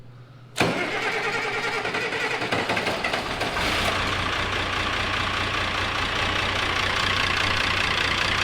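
A 1999 Ford F350 Powerstroke diesel with a high-pressure oil pump leak cranks, catches abruptly and roars into a loud, steady, close running rumble under light throttle, with no talk.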